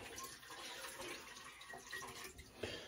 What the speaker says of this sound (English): I got some cold water in a bowl here